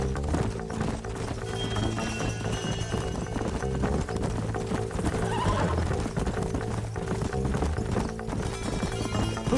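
In the Western video game Red Dead Redemption, horses clop along at a brisk pace with loud, repeated neighs and whinnies over a busy layered game soundscape.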